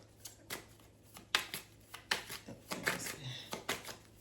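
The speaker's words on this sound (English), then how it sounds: "I'm gonna still shuffle." Tarot cards being shuffled by hand in a quiet room, a series of soft riffling bursts and taps at an irregular rhythm, close and fairly faint with no talk.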